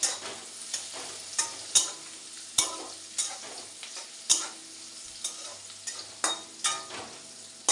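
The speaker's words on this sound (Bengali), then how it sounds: "এই যে সেই পেঁয়াজ ভাজার মধ্যে ডিম দিয়ে ফাটিয়ে" Egg is broken into frying onions and scrambled in a pan: a soft sizzle underneath sharp, irregular scraping knocks of a spatula against the pan every second or so, close and fairly quiet, with no talking.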